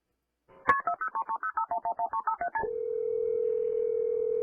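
A 911 call recording opens with a rapid run of about a dozen telephone keypad tones in a quick rhythm, then a steady dial tone that holds to the end.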